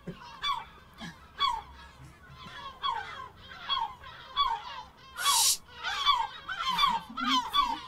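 Seagulls call over and over in harsh, honking cries at fairly close range, with a steady rhythm of squawks and one brief burst of noise partway through.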